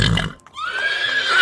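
A horse on a farm gives one loud, close whinny that rises and trembles, preceded by a brief low rumble.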